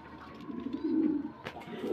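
Pigeons coo in soft, throaty, rolling calls, close and steady, with a brief rustle near the end and no voices.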